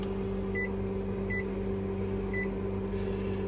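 Three short electronic beeps from a convection oven's control panel inside an RV kitchen ring out over a steady appliance hum as settings are keyed in.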